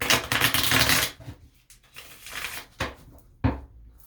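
Tarot cards are shuffled by hand in a quick, dense riffle of crisp flutters lasting about a second, followed by a few separate, sharper card slaps and taps, close and loud, with no talking.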